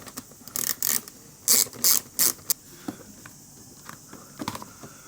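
A hand ratchet driving out T30 Torx screws from a small body panel on a 2021 KTM 1290 Super Adventure R motorcycle: several close bursts of rapid clicking, loud and crisp, then fainter scattered ticks.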